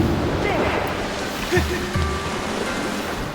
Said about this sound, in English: Get out of the water, Link.